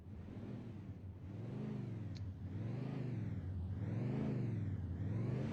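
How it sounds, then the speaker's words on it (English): Race car engines in iRacing at Hickory speedway, a steady droning roar with rising and falling revs as cars roll onto the track, continuous and moderately loud with no talk. "the first cars start to roll out onto the speedway"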